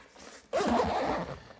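A zipper on a HEAD Rebel backpack is pulled open in one quick, close, rasping sweep after a brief quiet moment.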